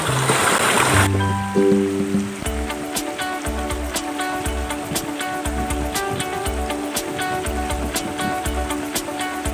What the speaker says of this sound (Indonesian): Sungai yang besar ini, apalagi sekarang sedang dalam musim hujan, jadi arus airnya itu sangat besar.